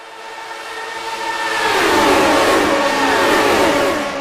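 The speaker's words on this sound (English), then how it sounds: "Turn up the engine noise of these Lotus 79s." Lotus 79 race cars roar around an oval at Michigan in a retro racing video game, the engine note swelling loud and steady as the pack passes close, layered whines rising in pitch with no talking.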